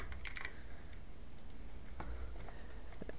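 Typing on a computer keyboard in quick, close bursts of key clicks with short pauses between, in a quiet room and without speech.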